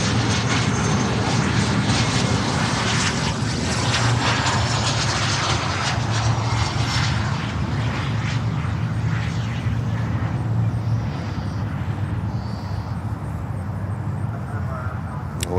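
A Presidential Aviation jet passes at Fort Lauderdale airport, its engine roar loud and sustained before slowly easing off, with a voice talking over it.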